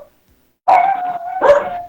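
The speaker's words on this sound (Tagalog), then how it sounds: "Pasaway na aso to." A dog gives two close, loud barks in quick succession after a moment of silence, heard alone without any talk.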